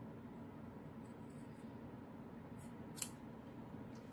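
Scissors trimming the fabric corners of a sewn pajama top, a few soft close snips rising above steady low background noise, with one sharper cut standing out and no talking.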